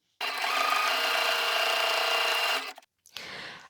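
A sewing machine runs a flat fell seam in a steady, close, fast whirring burst of about two and a half seconds, stops briefly, then starts a shorter second run.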